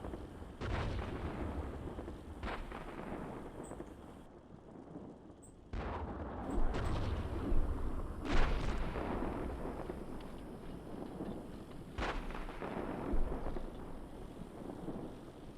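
Booming gunfire and explosions from a Steel Beasts Pro PE tank combat game, with several heavy blasts spread through a steady rumbling battle background, loud and close.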